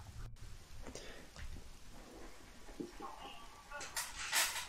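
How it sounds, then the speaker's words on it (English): Rainstorm in the video game Zelda Ocarina of Time, a faint steady hiss of falling rain with a low rumble and a brighter burst of rain near the end. "this is kind of a dramatic storm going on here,"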